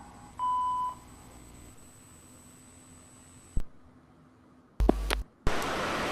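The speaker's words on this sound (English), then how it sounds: "please leave a message after the tone" A single steady answering-machine beep tone sounds clearly for about half a second, followed by quiet hiss and then a few sharp clicks and bursts of noise.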